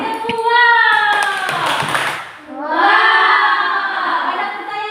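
Children perform a rhythmic 'tepuk wow' clap chant in a classroom, sharp hand claps mixed with bright young voices chanting in unison, loud and close, with a brief pause midway before the chant resumes.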